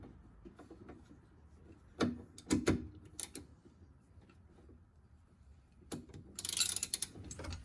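Ratchet wrench working a bolt on a Porsche 986 sway bar link, giving a few quick clicking bursts and metallic clanks close up against a quiet background.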